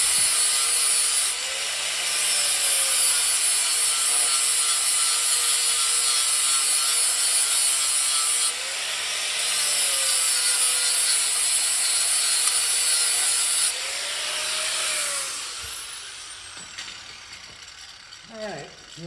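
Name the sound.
notching a tube for buggy build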